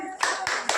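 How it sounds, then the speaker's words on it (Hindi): Audience clapping at a Gayatri Mantra gathering during a Jyoti Kalash Rath Yatra, with three loud bursts of hand claps in quick succession. "जोरदार ताली बजाएं।"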